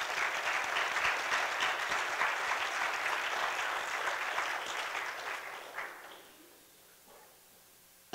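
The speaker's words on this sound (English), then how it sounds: "you ought to give yourselves a round of applause" An audience in Portland, Oregon claps in dense, steady applause that holds loud for several seconds, then thins out and dies away toward the end.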